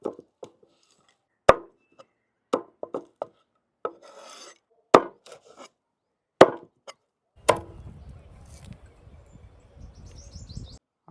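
Bombay duck fish being cleaned, its head and tail cut off: sparse, sharp knife chops and rasping scrapes in an irregular rhythm, close and fairly quiet, with soft rustling near the end.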